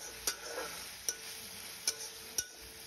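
Chopped onion with turmeric powder being stir-fried in a pan for a coconut prawn curry, a soft low sizzle under four sharp spatula clinks against the pan, spaced roughly a second apart.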